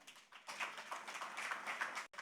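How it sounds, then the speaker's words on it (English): Applause at an insurance app launch event. Faint, distant clapping from the audience rises and continues steadily for about two seconds, then breaks off abruptly. "Please, a round of applause."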